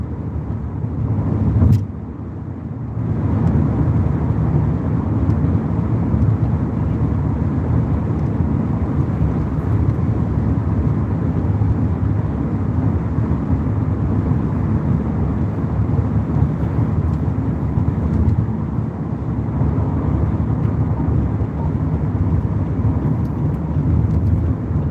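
A car drives on the road to Irvine, heard from inside the cabin as a steady, loud low rumble of engine and tire noise with a brief bump near the start and no talking.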